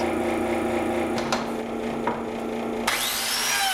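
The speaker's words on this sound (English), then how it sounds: "using the plate joiner, cut my slots" A plate joiner whines steadily while cutting biscuit slots into a wooden panel, with a few sharp bursts as the blade plunges and the pitch shifts near the end.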